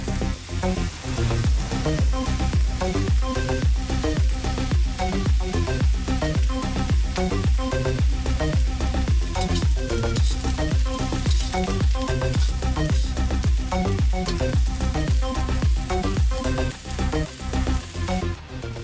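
Mixed vegetables for chop suey, including snow peas and carrots, sizzling as they are stir-fried in a pan, a loud steady crackle and hiss with busy clattering texture running the whole time, close up.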